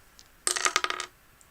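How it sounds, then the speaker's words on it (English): Dice rattle and tumble across a tabletop during a game of Deadwood, a board game, in one short, close clatter of bright clicks lasting about half a second, with quiet before and after. "So from here, they're going to go ahead and roll."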